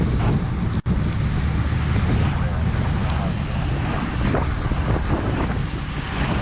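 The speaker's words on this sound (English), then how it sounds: "it does have a little bit of swirling winds going ahead" Swirling wind buffets a microphone at an outdoor fire scene, a steady, loud rumbling roar with gusty surges and one brief dropout, no other clear sounds over it.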